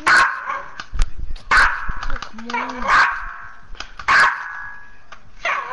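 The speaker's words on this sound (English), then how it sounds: "He barked at me, obviously." A dog barks in a room amid people talking, giving several loud, sharp barks spaced a second or so apart, close to the microphone, with a whimpering yip in between and voices over and around them.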